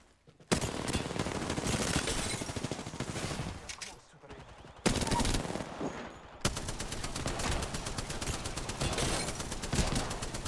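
Rapid bursts of R99 submachine gun fire in Apex Legends, loud dense automatic volleys broken by a short pause near the middle before another long stream of shots, with no talking.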